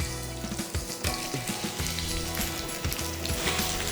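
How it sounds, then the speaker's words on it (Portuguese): Chopped onion sizzles in melted butter in a pan for a risotto, giving a steady crackling fry with bursts of popping and spattering. The sizzle is close and continuous, and no one speaks. "Derrete a manteiga e já pode entrar com a cebola."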